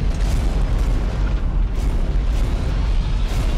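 Explosions in the video game Dead Space 3 rumble as one continuous, loud, low booming roar.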